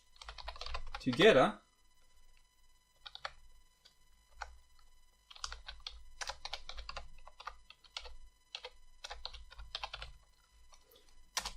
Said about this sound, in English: So sorry for my messed up typing right here